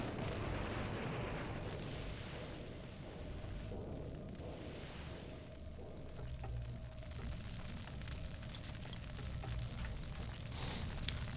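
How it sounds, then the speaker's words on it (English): Napalm launcher in the shooter Blood, a steady roaring rumble of fiery blasts and burning that runs for over ten seconds at moderate loudness, dense and continuous, with no talking. "let's blast this guy with the napalm launcher"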